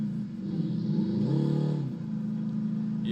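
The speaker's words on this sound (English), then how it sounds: "Yeah, it's got broken engine sound." Simulated car engine from a modded vehicle with a broken engine sound in BeamNG.drive, a steady droning rumble that rises in pitch briefly as if revved, then settles back, with no talking.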